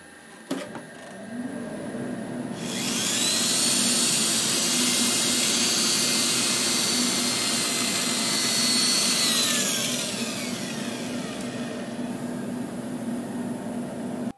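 A lathe spins a wooden lidded box while 320 sandpaper is pressed against it, a steady whirring motor joined by a loud, hissing abrasive rush that swells for several seconds and then eases off.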